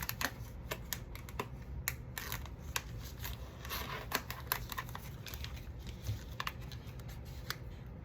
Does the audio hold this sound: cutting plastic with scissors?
yes